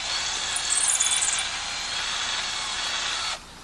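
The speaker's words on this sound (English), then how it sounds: "drilling holes in" A drill with a diamond-tipped bit boring holes into rock, a loud steady high grinding whine that holds for over three seconds and then cuts off abruptly, close and without talking.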